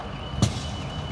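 A burning white Mercedes on a parking lot lets out one sharp battery pop, a brief loud burst over a steady low background rumble.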